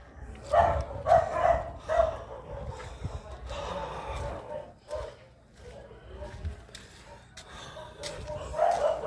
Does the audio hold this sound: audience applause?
no